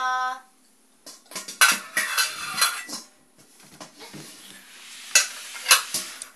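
A baby drums on kitchen pot lids, giving irregular bursts of metallic clattering and clanging close by, with a brief tonal ring at the start.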